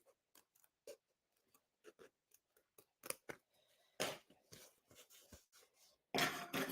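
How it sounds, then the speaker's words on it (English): Scissors snip through material during an embroidery project, a faint close-up run of short irregular cuts that grows into louder, denser snipping toward the end. "See, I just go back and forth between the scissors."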